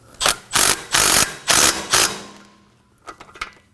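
Ratchet wrench tightening a rear brake hose bolt on a 2014-2020 Acura MDX, five loud rapid clicking bursts in quick rhythm, then a pause and a few lighter, quicker clicks close up.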